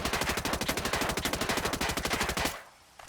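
Rapid automatic fire from the 805 Bren assault rifle in the video game Ghost Recon Breakpoint, a loud, steady burst of evenly spaced shots lasting about two and a half seconds before cutting off abruptly.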